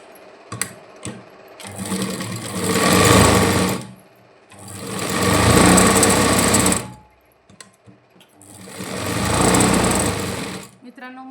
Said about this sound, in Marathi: मशीनचा आवाज येत असेल तर मशीनचा आवाज थोडंसं इग्नोर करा, कारण मोटरमुळे आवाज येतो.